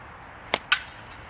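Two sharp slingshot shots from an M&J Archery Ridge frame with wood grip panels, a quick snapping crack followed by a second about a fifth of a second later, close and loud against a quiet background.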